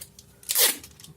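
A single quick ripping sound of adhesive tape being pulled and torn during repair of a vibration water pump, close and fairly soft, in an otherwise quiet room.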